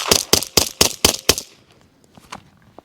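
Six quick, sharp suppressed pistol shots from a SAR9 SOCOM fire in an even rapid string, followed by fainter clicks and mechanical clatter as the firing stops.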